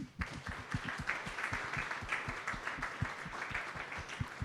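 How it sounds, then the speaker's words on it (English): Audience applause at a company staff gathering, quiet and distant, with individual claps audible as a quick steady patter that continues throughout without talk. "to give you all a big round of applause"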